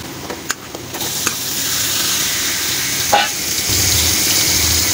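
Desi chicken meat goes into a hot pan with potatoes. A few clatters come first, then a loud, steady frying hiss that swells and stays dense to the end.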